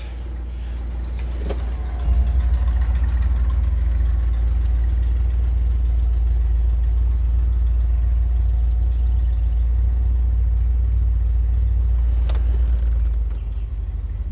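A 1964 Ford Galaxie 500 convertible's engine runs steadily with a low, constant rumble for the whole stretch. It revs slightly higher from about two seconds in, as if racing a little, then settles near the end.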